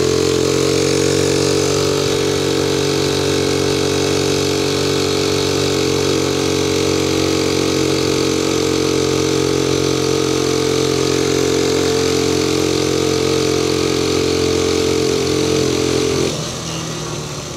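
A motorcycle engine runs steadily and loudly for most of the clip with a constant drone and little change in pitch, then drops off near the end. It sounds more like a steady cruise or idle than a strong climb.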